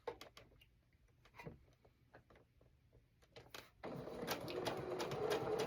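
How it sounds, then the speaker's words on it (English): A sewing machine stitching a zippered pouch starts after scattered clicks and handling taps, then settles into a fast steady whir that continues to the end, close and fairly quiet. "Sewing the other side now."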